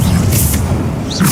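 Bombarda explosion spell cast in the video game Hogwarts Legacy, a loud low booming blast filling the moment with a dense rumble and a brief crackle at the start and end.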